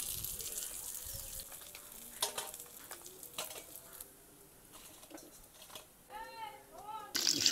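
Black carp pieces fry in hot oil with a soft, constant sizzle, punctuated by scraping and stirring clatter from a utensil in the pan, with a voice speaking intermittently over it.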